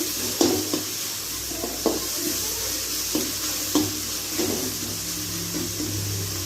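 Food frying in a pan, a steady close sizzle with faint periodic scraping and stirring strokes roughly every second or so, no talk over it.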